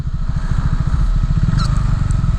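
Motorcycle riding along a Chicago road, its engine giving a steady, loud, close rumble with a rapid pulsing beat throughout, plus some wind and road noise and no talking.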